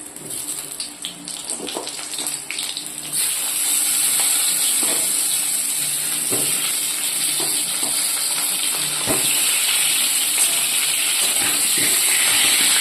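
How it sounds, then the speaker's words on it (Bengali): Potato pieces sizzle in hot oil after being added to the pan, a steady loud hiss that swells after a few seconds and continues with occasional pops and crackles. "এবার আমি আলুটাও একটু আলাদাভাবে ভেজে নেব।"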